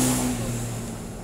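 A Yamaha Mio scooter engine with a recurring weak-battery problem runs steadily nearby, a continuous mid-pitched motor hum that eases slightly in loudness over a short span.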